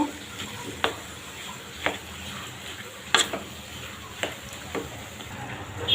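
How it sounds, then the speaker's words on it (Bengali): Bottle gourd, chopped tomato and green chilies being stirred in a pan, a spoon scraping and clacking in a loose rhythm of about six strokes over a soft, continuous sizzle, close up and without talking. "এখন আমি টমেটো আর কাঁচামরিচটা দিয়ে দিব এই যে টমেটো কুচিগুলো আর মরিচগুলো দিবি এখন আমি ভালো করে মিশে নিব"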